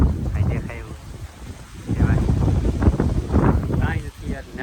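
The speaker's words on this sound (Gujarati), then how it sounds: "જો ખાલી પવન વધારે છે એ ફેર છે" Strong wind buffets the microphone in an open cotton farm field, rumbling in uneven gusts that rise and fall, with a person talking faintly underneath.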